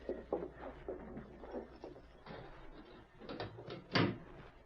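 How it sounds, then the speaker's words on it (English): A jail cell door is opened in an old Western radio drama sound effect: a series of muffled clunks and latch rattles, ending in a louder metallic knock, heard close and alone. "I'll open the door to the big cell."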